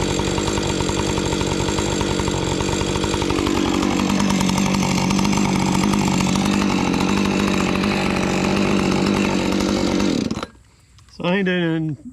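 A Husqvarna chainsaw runs loud and close as a steady, buzzing two-stroke drone for about ten seconds, then cuts out abruptly, leaving a brief moment of quieter sound at the end.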